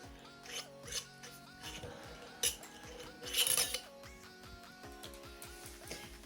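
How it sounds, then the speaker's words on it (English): A lid is fitted onto a glass mason jar made into a DIY toothbrush holder: soft close clinks, scrapes and light metallic taps scattered over several seconds, quiet overall. "So you put the lid on it so you guys can see it in its entirety."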